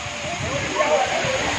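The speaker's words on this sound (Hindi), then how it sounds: "झरने पे।" A waterfall near the Alaknanda and Bhagirathi river confluence at Devprayag roars with a constant, close, broad rush of falling water, and voices can be heard faintly beneath it.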